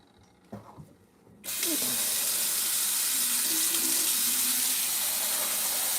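Cold water gushes from a kitchen tap into a sink, a steady loud hiss that starts abruptly after a few soft clinks and continues unbroken, close by.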